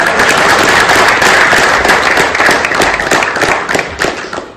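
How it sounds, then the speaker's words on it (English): Loud, dense applause from an audience at a Tamil Nadu political youth Q&A event, a steady wash of clapping sustained for several seconds before tapering slightly. "Can we have a round of applause for that?"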